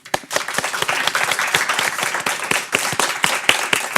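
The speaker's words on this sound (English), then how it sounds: "we just give a big applause to both Aurora and Toriva." An audience at a panel discussion on quality of life in Norway gives a big round of applause, dense steady clapping from many hands filling the room for about four seconds.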